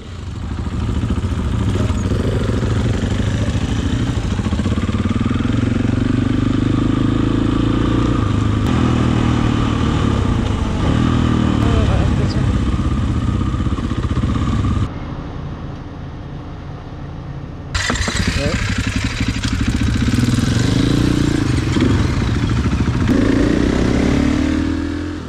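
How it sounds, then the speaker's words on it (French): Several KTM motorcycles on a Morocco ride, engines running loud and steady throughout, with revving surges and rolling engine drone, a brief dip partway through before the full roar returns. "nos 5 KTM nous attendent depuis bien trop longtemps"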